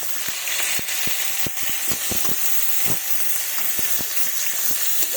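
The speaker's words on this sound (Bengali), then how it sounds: "এবার মাছগুলো কড়াইয়ে ভেজে নেব" Fish pieces fry in hot mustard oil in a wok, giving a loud, constant hissing sizzle with scattered sharp pops and spatters throughout, close and without any speech.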